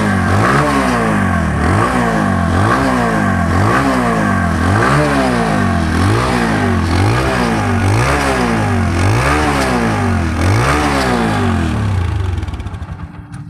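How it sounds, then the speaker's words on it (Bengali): A TVS Apache RTR 160 motorcycle with about 10,226 km on it revs hard, loud and close, in a steady cycle of about a dozen rising and falling throttle blips before the engine note cuts off near the end. "এখন আমি গাড়িটা স্টার্ট করে দেখাবো।"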